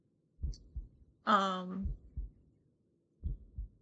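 Slow, deep heartbeat thumps from the horror game Paranormasight, set in a factory, come as paired low pulses with a gap between them; a short tonal game cue sounds once between the beats, and the scene is otherwise quiet.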